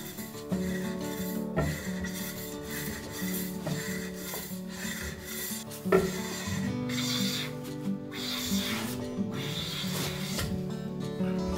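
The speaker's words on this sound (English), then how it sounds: "The planer's blade was dull this time. The shaving's shape looks like a rat's tail." A hand plane with a dull blade shaves a thick Japanese cypress board, giving a series of rasping wooden strokes that repeat every second or so, close and moderately loud.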